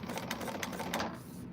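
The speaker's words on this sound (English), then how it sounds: "I'm just going to top stitch these real quick" A home sewing machine top stitching fabric for a quilted garment, short quick bursts of rapid needle clatter close by, fairly quiet and alone, trailing off near the end.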